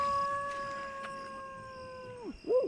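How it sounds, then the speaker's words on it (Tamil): A dog howls at night, one long sustained wavering note held steadily for about two seconds before breaking off, followed by a short rising yelp; faint and distant against a quiet background. "நாய் ஒலிக்கிற சவுண்டு கேக்குது."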